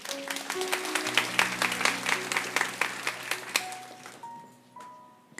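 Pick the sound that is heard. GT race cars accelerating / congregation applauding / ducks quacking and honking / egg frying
congregation applauding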